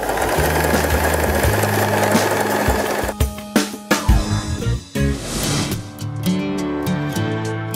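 A Janome 3016 domestic sewing machine running at speed through a backstitch, a steady loud mechanical whir that breaks into short stop-start bursts and taps near the end.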